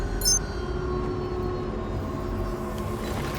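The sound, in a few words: spaceship engines in Star Citizen video game, like airliner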